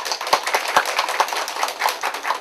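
An audience applauds to welcome an ambassador back onto the stage at a house tax press event, with steady, fairly close clapping that has a few sharper individual claps standing out.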